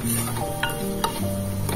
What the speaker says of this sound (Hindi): इसे हमें सिर्फ 1 मिनट तक फ्राई करना है